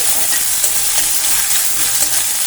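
Peas and paneer fry with onion in a pan over a medium gas flame, a loud, close, continuous sizzle with soft stirring scrapes throughout.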